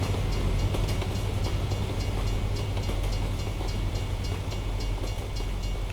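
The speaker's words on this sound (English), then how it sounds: "The train's coming from my left. I can hear it." Union Pacific freight train with grain hoppers and intermodal trailers rolling past in American Truck Simulator on Colorado's Wolf Creek Pass, a steady loud rumble with faint rhythmic clacking throughout.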